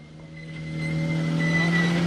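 A rally car engine at WRC Rally Germany 2012 drones in the distance, its pitch holding steady then swelling slightly louder as it revs.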